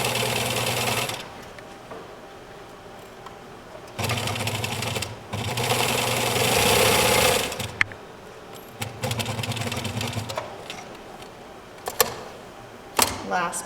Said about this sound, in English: I just have to stitch all the way down into here and stop